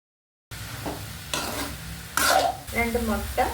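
Long beans are dropped into a hot pan with turmeric and chili powder over a lowered flame, sizzling close up while a spoon scrapes and stirs in short bursts.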